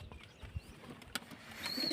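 Pigeons coo softly in a loft, giving low, muffled throaty pulses with a faint thin chirp near the end.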